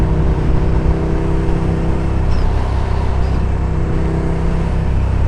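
Motorcycle engine running steadily during a ride, a loud continuous drone with sustained wind rush and no distinct rev peaks, close and constant throughout.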